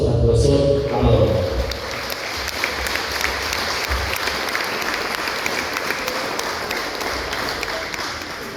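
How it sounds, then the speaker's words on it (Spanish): Audience applause for Professor Amador at a community council gathering in Caxhuacan, Puebla, a sustained crowd clapping that starts strong and continues steadily throughout. "Fuertes aplausos para el profesor Amador."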